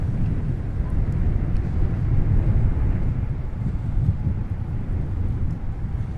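Delta wide-body heavy jet inbound from Amsterdam arriving at Minneapolis–Saint Paul airport, a steady low roar with wind rumble filling the whole stretch, no voices.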